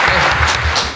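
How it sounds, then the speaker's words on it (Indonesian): Short burst of hand clapping from a small group at an Indonesian santri podcast, loud and close, lasting about a second. "Tepuk tangan lah."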